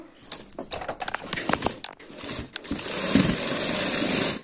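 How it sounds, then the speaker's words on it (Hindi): A sewing machine stitching the side seam of a blouse, first in short stop-start bursts and then a steadier run of rapid mechanical whirring near the end, close and fairly loud with no voices. "तो देखिए सिलाई को मैंने ऐसे चला दिया"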